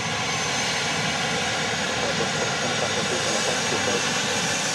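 A jet airliner on approach to Dallas Love Field's single runway roars loud and steady, a broad continuous engine rumble with no voices.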